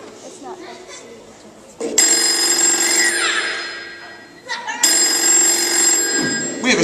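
Telephone on a radio show rings for an incoming call in two loud, bright bursts of electronic trilling separated by a short gap, with faint voices underneath.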